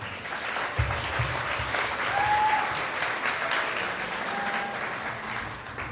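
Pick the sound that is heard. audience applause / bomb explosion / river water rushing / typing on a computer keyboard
audience applause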